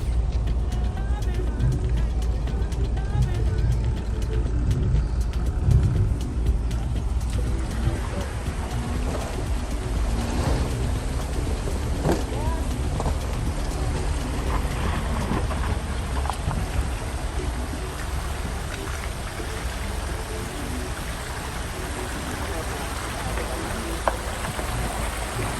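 A Jeep grinds through a steep, muddy stream crossing: a steady low rumble of engine and splashing water fills the scene, with occasional clunks and scattered voices faintly underneath.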